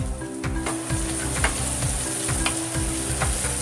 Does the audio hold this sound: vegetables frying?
yes